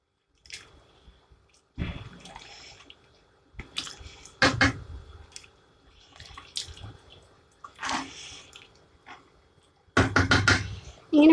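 A spoon tapped on the rim of a rice pot: sharp, separate metallic knocks in short bursts, some close together, spaced by quiet gaps, with faint stirring and water-like sounds between.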